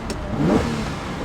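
A 1970 Ferrari 365 GTB4 Daytona coupe revs up in a short, rising burst of engine sound heard from nearby on a road, with no talk over it.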